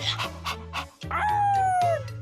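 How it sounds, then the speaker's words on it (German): A dog whimpers and yips in short bursts close by, with a long drawn-out whine near the end, in a German cartoon-style audio drama. "na du ist mir ja mal vielleicht ein süßer Köter"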